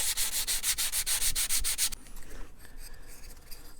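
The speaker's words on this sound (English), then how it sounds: "let me go ahead and shape this and sand it" Sanding a balsa wood part for an RC plane kit, with rapid rhythmic back-and-forth rasping strokes for two seconds, then quieter, lighter rubbing.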